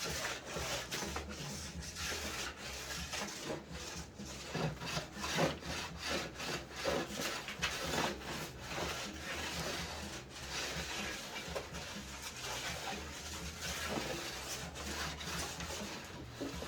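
A waxing iron is run back and forth over a snowboard base to heat it for hot waxing, making quiet, steady rubbing and scraping strokes in a continuous rhythm.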